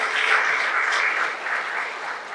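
Audience at an entrepreneurship lecture event in Lagos claps for visiting representatives, a brief, full burst of crowd applause, steady and fairly loud, easing slightly toward the end.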